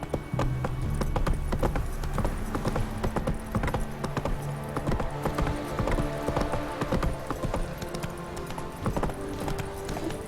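Roach, Geralt's horse in The Witcher 3, clops along in a steady hoofbeat rhythm, close and clear, with a brief whinny and game ambience behind.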